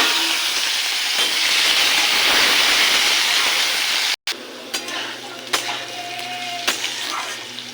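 Potatoes drop into hot oil already crackling with cumin. A loud, dense sizzle runs for a few seconds, then cuts off abruptly and gives way to quieter frying with scattered pops and stirring clicks.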